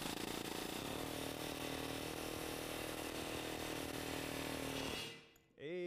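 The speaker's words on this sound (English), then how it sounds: "Safety glasses when you're playing with the air hammer" Air hammer rattling rapidly against a stuck wheel hub bearing bolt on a 2014 Chevy, a loud continuous buzzing hammering for about five seconds before cutting off abruptly.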